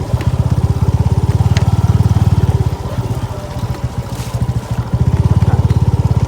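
A motorcycle engine chugs loudly and close in a steady rapid pulse as it rides along a narrow forest road in the mountains, easing briefly in the middle before revving back up.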